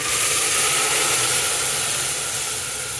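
Red lentils going into hot oil with burnt garlic for a mango dal give off a loud, steady sizzle that hisses without a break for the whole stretch.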